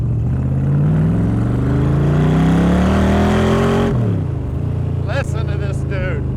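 A Kirkham all-aluminum-body Cobra engine revs hard while rounding a corner: a loud, close, climbing engine note that peaks, drops off sharply, then settles into a lower rumble as a brief voice is heard near the end.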